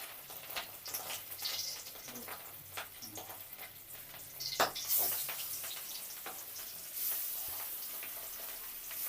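Fish frying in hot oil in a home kitchen gives a faint, steady sizzle broken by sharp spatters and pops, with occasional scraping and stirring noises.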